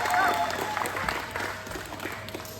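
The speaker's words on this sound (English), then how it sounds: "give my 2 friends a round of applause" An audience claps for two volunteers called up at a science event in Saratoga Springs, a moderate burst of clapping that tapers off as it goes, with some voices mixed in.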